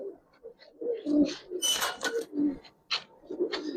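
Giribaz pigeons, including a hen, coo repeatedly at close range in soft throaty bursts with a few sharper flutters and wing sounds mixed in.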